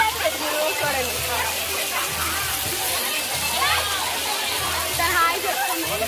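Water pouring down from overhead sprays at a water park rain dance, a steady rushing splash that stays loud and continuous throughout with faint voices in the background.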